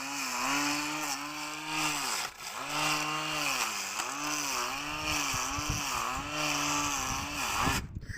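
A cordless battery-powered grass trimmer runs steadily with a high electric whine, its pitch dipping and recovering repeatedly as the line cuts through grass, close by, briefly cut off at the end.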